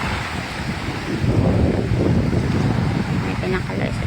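Strong wind buffets the microphone at a fishport beach in Governor Generoso, Davao Oriental, during tsunami flooding, with a continuous roar of surf beneath the gusts and a voice speaking over it.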